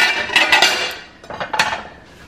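Colorful Fiesta ware ceramic plates clinking and clattering as they are stacked and handled in a kitchen, with two clusters of bright knocks close by and no talk.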